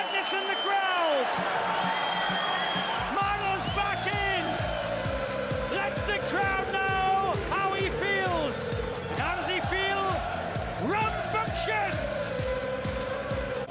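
A darts crowd at Alexandra Palace in 2008 roars and cheers for Wayne Mardle in his match against Phil Taylor, a loud, sustained din with whistles and singing voices rising over it.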